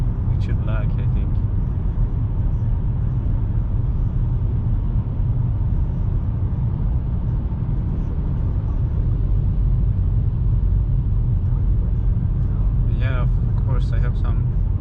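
Car driving through a road tunnel, a steady low rumble and road roar throughout, with faint higher passing noises, while people talk over it.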